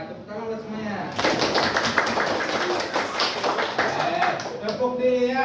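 A class of children in an Indonesian classroom applauds for several seconds, a dense wash of hand claps that swells after brief speech and fades as talking resumes.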